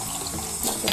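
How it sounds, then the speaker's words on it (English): Cold water runs steadily from a tap into a sink while hair extensions are rinsed under it, a close, continuous splashing flow with no voices. "Now I just usually like to rinse them with cold water."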